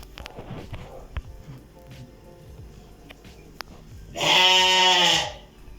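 A sheep at an Eid slaughter gathering in Morocco lets out one loud, drawn-out bleat near the end, after quieter scuffling, footsteps and faint bleats nearby.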